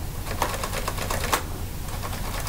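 Typewriter keys struck with no paper in the machine, a quick irregular run of sharp mechanical clacks, close and fairly loud, with no voices.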